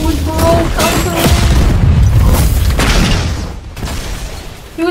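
Gunfire in the Roblox-style fighting game The Strongest Battlegrounds, a rapid cluster of loud booming shots and bursts in the first few seconds, then a quieter tail and one more hit at the end, with voices faintly mixed in.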